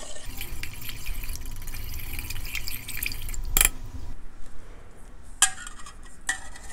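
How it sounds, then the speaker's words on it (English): Rose hip jelly with SureJell pectin is stirred in a pot, giving close liquid sloshing and scraping, a few sharp clinks of a utensil against the metal, and wet drips near the end. "Start stirring that around."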